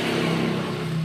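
A Motorstar TMX155 motorcycle's clutch side makes a steady, noisy mechanical hum and whir as the clutch is released, heard close up and alone with no speech.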